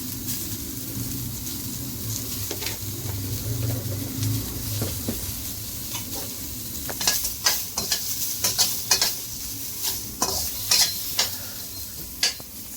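Onions frying in a pan with a soft steady sizzle, joined midway by a run of sharp, quick scraping and clinking strokes of a utensil stirring against the metal, close up with no speech.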